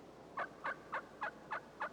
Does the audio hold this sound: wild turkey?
yes